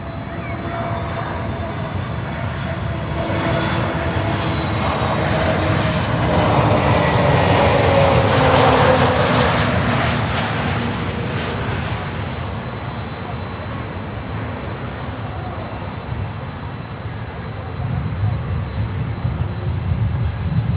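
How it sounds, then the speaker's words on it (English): American Airlines Boeing 777 arriving at Miami airport: engine roar swells to a peak midway with a whining tone sliding across it, then eases back to a steady rumble, moderately distant. "We have now 777 coming in, American Airlines."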